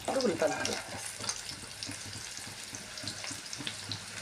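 Onion pieces frying in oil in a pan, a soft sizzle with faint intermittent stirring scrapes, quiet and close.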